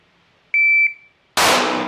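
Shot timer start beep at a timed shooting drill on a B8 target: a single clear electronic tone lasting about half a second, followed almost immediately by a loud, sharp gunshot with a trailing decay.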